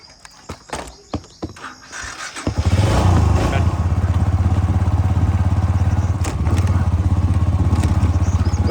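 A motorcycle engine drones steadily and loud after a few seconds of clattering and knocks, with a constant low rumble of riding and wind.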